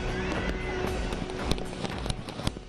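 Diwali firecrackers going off in Delhi, a dense run of sharp pops and crackles at varying distances over a constant roar of wind-like background noise.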